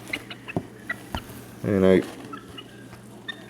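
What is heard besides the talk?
young chickens clucking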